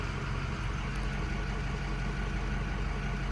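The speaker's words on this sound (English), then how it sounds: "just sitting here idling in front of the shop" A car engine with a clogged EGR system idles in front of a repair shop, a steady low rumbling drone with even, continuous texture and no voices.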